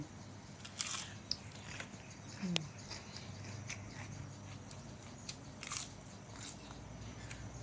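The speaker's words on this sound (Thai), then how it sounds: "กินผักไปเรื่อยๆ กินผักกับน้ำพริก" Someone eats fresh vegetables dipped in chili paste, producing a few faint, close crunchy bites and chewing sounds against a quiet background.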